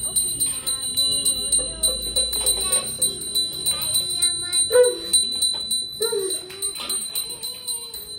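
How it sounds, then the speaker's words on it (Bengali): A puja bell rings rapidly and continuously close by during a Janmashtami Gopal worship, its bright metallic peals repeating in a steady rhythm with faint voices underneath. "ঘন্টাটা তো বাজা"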